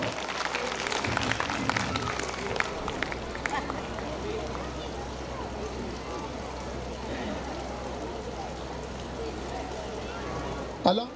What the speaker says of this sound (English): Please, ladies and gentlemen, a big round of applause.